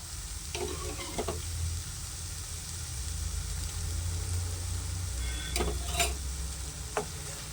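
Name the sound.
stirring beetroot halwa with milk cream in a pan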